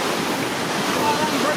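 Waves breaking on a Jamaican beach, heard as a continuous broad roar of surf mixed with wind buffeting the microphone.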